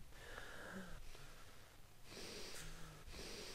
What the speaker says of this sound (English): it's so quiet that all I can hear is just my breathing